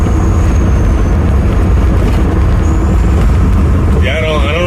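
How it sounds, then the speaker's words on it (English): A semi truck's engine roars in a steady, loud, broadband drone throughout, heard from close by while driving on a night shift, with a brief higher-pitched warble near the end. "Wow, that engine. That sound is good."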